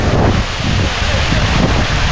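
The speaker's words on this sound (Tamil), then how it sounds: "காற்றுக்கு எதுவுமே சரியாக கேட்காது" Strong wind blows at the Agaya Gangai waterfall in the Kolli Hills, roaring loudly and buffeting the microphone in a dense, unbroken rush throughout.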